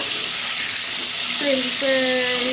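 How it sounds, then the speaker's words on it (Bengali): Potatoes and cauliflower frying in a pan over medium-low heat give a steady soft sizzle, joined near the end by a voice speaking over it. "আঁচটা একটু কমিয়ে দিয়ে ভাজাই ভালো, যেন বেশি কড়া মানে একদম কালো না হয়ে যায়।"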